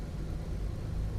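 A truck engine heard from inside the cab in Euro Truck Simulator 2 with a sound mod, a low steady rumbling drone that stays fairly quiet and even, with no talk over it.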